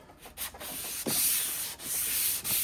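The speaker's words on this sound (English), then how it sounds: "first we prep it by sanding it" Close, loud rhythmic rasping of sandpaper rubbed back and forth over wood, strokes coming in steady repeated pulls, no talking.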